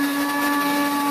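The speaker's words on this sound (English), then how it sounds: "So now we are about blending the chili." An electric blender grinding chili, a loud steady motor whine with a strong constant hum, running without pause.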